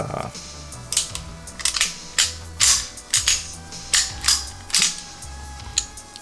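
A CZ 75 Compact pistol is handled during a safety check, with a run of sharp metallic clicks and clacks from the slide and mechanism coming close and loud at an irregular pace.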